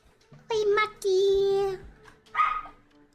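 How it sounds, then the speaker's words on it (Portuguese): A dog barks a few times in short, loud yips and a drawn-out bark, with brief pauses between, close by. "Para de latir, dog!"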